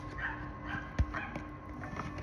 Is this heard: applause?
no